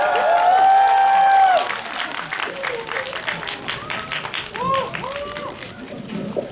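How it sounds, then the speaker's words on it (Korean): A cinema audience applauds during a cast stage greeting for the film Little Forest. Dense, sustained clapping fills the room, with voices speaking loudly over it at the start and continuing beneath it. "한 박수 한번 부탁드리겠습니다."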